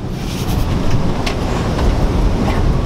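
Inside a crowded MRT commuter train in the Philippines: steady rumbling rail noise with faint rattles and clicks, loud and continuous, with no talking.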